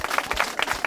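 Brief burst of audience applause at a college freshers music event, scattered hand claps rippling quickly in a short, moderately loud patter.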